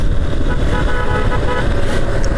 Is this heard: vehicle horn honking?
yes